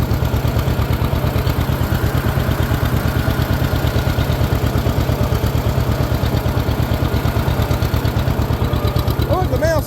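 A tractor engine idles close by with a steady, fast, even chugging pulse throughout, loud and rhythmic, with a little extra rattle near the end.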